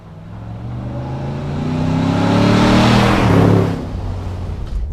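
A 1960 Willys Overland Wagon with a TIG-welded, ceramic-coated stainless exhaust revs up close, its engine note climbing and swelling to a loud peak before easing back down.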